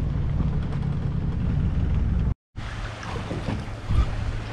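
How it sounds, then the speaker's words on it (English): Strong wind buffets the microphone outdoors during a fishing trip by the water, giving a loud, steady rumbling roar that cuts out briefly and then returns. "Still windy as hell."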